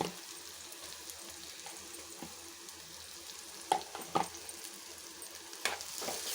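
Ginger garlic paste fries quietly in a pan as a soft, continuous sizzle, with a few stirring scrapes and taps close by and no voices.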